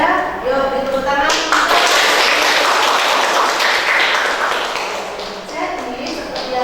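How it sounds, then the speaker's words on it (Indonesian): A classroom of students applauds, a broad wash of clapping that swells, holds, then fades, with voices talking over the start and end. "Yuk beri tepuk tangan."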